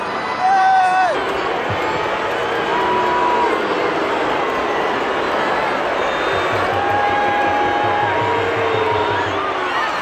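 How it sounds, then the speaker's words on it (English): A packed football stadium crowd at a women's World Cup match between the Matildas and Sweden roars in a broad, sustained wash of noise after a penalty is given. Whistles and nearby voices cut through the roar. "Crowd don't like that"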